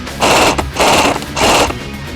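A G&G CM16 Raider airsoft electric rifle fires three short full-auto bursts with brief pauses between them, close and fairly loud, each burst a rapid mechanical rattle.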